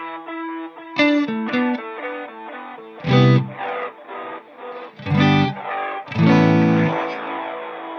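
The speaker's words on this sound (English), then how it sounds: "It's going to be a digital delay that we add distortion to it" Lo-fi digital delay effect with added distortion and reduced bit depth and sample rate, applied to a melodic instrument line; notes repeat in gritty, crunchy echoes, with louder bursts swelling several times, no talk.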